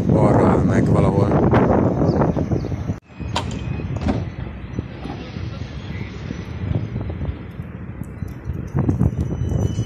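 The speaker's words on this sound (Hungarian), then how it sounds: "Ez megint fúj a szél." Wind buffets the microphone outdoors at a tram stop, a steady broadband rumble running throughout beneath a person talking.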